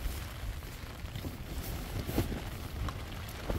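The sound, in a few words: strong wind on Mount Ciremai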